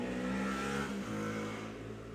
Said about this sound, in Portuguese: Passou uma moto a milhão, não sei se deu pra escutar.